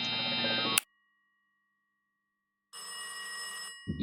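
A phone rings in a dark house at night in the horror game Mirror Mirror, two loud electronic ring bursts separated by a silent gap, close and alone.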